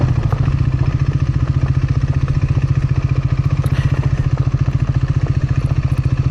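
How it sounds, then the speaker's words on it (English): A motorcycle engine braking in second gear down a steep switchback canyon descent, a steady rapid pulsing thrum that stays loud and close for the whole stretch, with no voices. "So we'll just engine brake down it in second gear, unless I need to engine brake down it in first gear."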